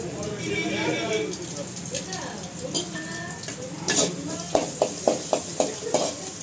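Garlic and chopped ginger sauté in a pan, with a steady sizzle and a run of sharp spoon-against-pan scrapes and taps toward the end.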